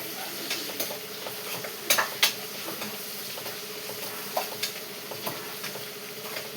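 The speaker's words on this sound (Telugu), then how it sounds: "ఇవమ్మా పోపులు వేసాను" Tempering spices crackle and sizzle steadily in hot oil, close up, with sharp intermittent taps and scrapes of a spoon stirring against the pan.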